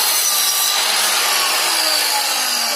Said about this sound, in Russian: Отмерил, отрезал